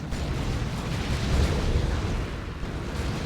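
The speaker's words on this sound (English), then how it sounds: "Chucked his grenade and used the Pestilent Strike." A Plague Champion's grenade bursts in Dawn of War 2, a Warhammer 40k strategy game, as a dense rumbling explosion amid ongoing battle noise, fairly faint and sustained for a few seconds with no talk.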